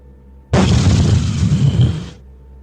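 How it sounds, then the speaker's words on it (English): A single loud, close explosion booms through the center of a camp as a podcast sound effect, a dense roaring blast lasting under two seconds before cutting off. "All of a sudden, you see a giant fucking explosion in the center of this camp."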